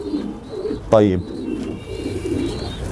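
Domestic pigeons in a hobbyist's loft coo softly in a repeating low rhythm, close by, while someone briefly speaks over them.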